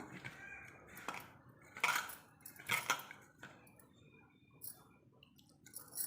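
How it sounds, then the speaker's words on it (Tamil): Semolina for rava puttu is mixed in a bowl with a spoon and by hand, giving a few sharp metallic clinks of the spoon against the dish between soft, moist scraping and squishing sounds, close and fairly quiet. "இப்போ வந்து இந்த ஸ்பூனால் கலக்கிறதோட நம்ம கையால் நல்லா கலந்து எடுத்துக்கலாம்"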